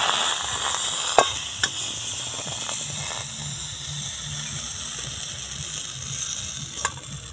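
Rice batter poured into a hot pan and swirled round, a continuous soft sizzle with a few sharp clicks and scrapes of the vessel against the pan.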